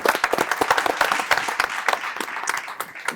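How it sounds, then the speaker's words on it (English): Applause breaks out from an audience at a school debate show, a dense patter of many hands clapping at close range with no break across the moment. "Can we get a round of applause, please, for Eleanor?"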